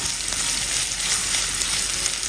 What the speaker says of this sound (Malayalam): സവാള എല്ലാം നല്ലോണം ഒന്ന് വാടി വരട്ടെ